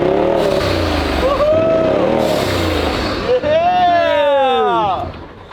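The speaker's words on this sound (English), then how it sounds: "I love that the exhaust isn't like obnoxious loud. Like it's good clean It's a sound." A turbocharged UTV engine revs several times with a deep, throaty but not overly loud exhaust, rising and falling in pitch close by while people talk over it.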